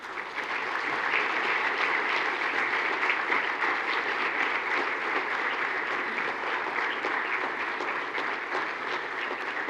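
An audience at an awards ceremony gives sustained, even applause for an honoree, a dense, steady clapping that fills the room for about ten seconds.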